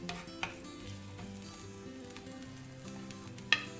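Chopped small onions sautéing in a hot pan, a steady soft sizzle with occasional clinks of a spoon against the metal, close by and with no voices.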